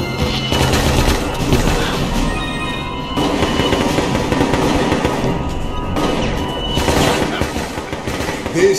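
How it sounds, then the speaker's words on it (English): A grenade blast in the video game Resident Evil Operation Raccoon City erupts amid dense, continuous gunfire and crashing booms, loud and close throughout with no clear break in the chaos. "Grenade!"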